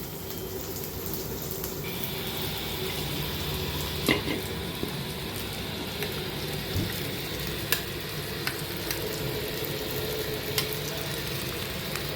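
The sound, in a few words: ground paste sautéing with capsicum and tomato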